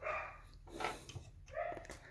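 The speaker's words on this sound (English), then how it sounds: "if you heard any barking when I was speaking" A dog barks a few times in short bursts, fairly close, with brief pauses between barks and no talking.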